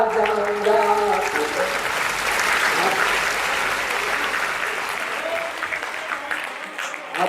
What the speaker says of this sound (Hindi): देखिए आपकी तालियां बजती है अच्छी